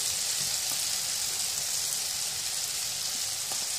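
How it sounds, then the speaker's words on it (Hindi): Mashed potatoes go into a pan of softened tomatoes frying for aloo bun kabab filling, giving a steady, close, hissing sizzle that holds evenly throughout with no talk. "मैश के अंदर मैश पोटैटो जो है उनको ऐड कर रही हूँ"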